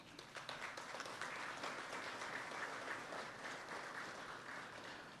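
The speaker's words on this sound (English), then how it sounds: "I ask you please to give yourselves a round of applause" Audience applause at a national aviation honours ceremony in the Bahamas, a faint, even wash of many people clapping in a hall, sustained without pause.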